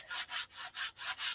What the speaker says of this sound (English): Biggest thing with sanding with this kind of grit is you got to know when to stop